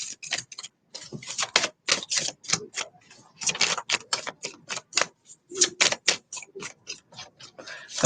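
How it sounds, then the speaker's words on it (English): Rapid crisp riffling and flicking of tarot cards, close up, in quick irregular bursts with no talking. "Okay, I think we're shuffled enough."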